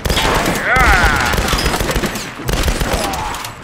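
Rifle gunfire in the video game Tomb Raider, a dense rapid volley of loud shots running through the whole moment with a brief break, alongside excited voices.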